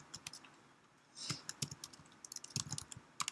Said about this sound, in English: type IPython.